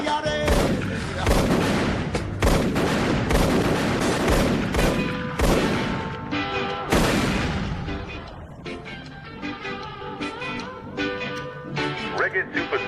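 Rapid bursts of heavy gunfire, many shots in quick succession with loud volleys for several seconds, easing to sparser, lighter shots while a tonal musical or electronic drone continues underneath.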